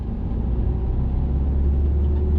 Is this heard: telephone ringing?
no